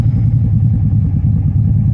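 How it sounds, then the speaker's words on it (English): Truck engine idling with a mild cam, running through a single factory exhaust into a Flowmaster Flow FX muffler, giving a steady, close, deep rumble with a slightly uneven lope and no talk. "Just going into the single factory exhaust into a Flowmaster Flow FX, which is like a MagnaFlow. So you can still hear some cam"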